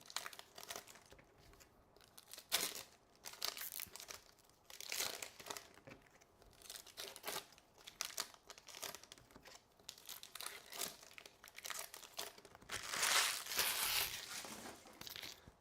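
A Pokemon Destined Rivals booster pack's foil wrapper is handled and torn open, giving soft, close crinkling and rustling in scattered bursts, with a fuller crackle near the end and no talking.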